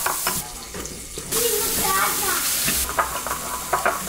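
Bacon sizzles in a frying pan, a broad steady crackle that swells midway and carries alongside kitchen clatter, running water and light movement, with no talk.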